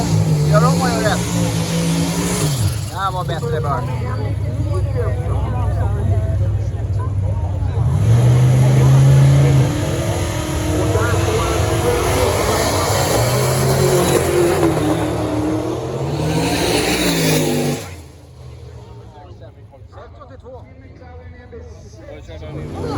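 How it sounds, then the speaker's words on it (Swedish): A car doing a burnout at Malmö Raceway during Street Week Sweden 2023, its engine roaring loud and sustained with repeated surges in revs, while people talk over it. "Ingen bra burnout-bil, men gör om och gör rätt. Det här var bättre börn."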